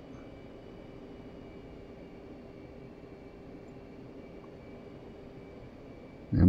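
F-15 jet in the Air Combat game taxiing out and lining up for takeoff, a steady engine drone with a hissing whine that holds even and alone, swelling sharply at the very end as thrust builds.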